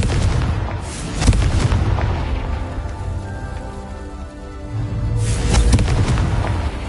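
Confringo fire spell explosion in Hogwarts Legacy: a booming blast with crackling debris early on, a quieter rumbling stretch, then a second heavy burst near the end.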